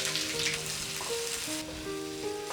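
Sliced onion drops into hot oil in a heated kadai, giving a soft, steady sizzle that stays fairly quiet under sustained tonal background music.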